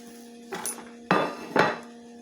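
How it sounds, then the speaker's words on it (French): Three sharp knocks ring out as a knife chops through steak against a hard board or plate, spaced roughly half a second apart, close and fairly loud, with the second and third strikes the strongest. "je vais juste couper mon steak"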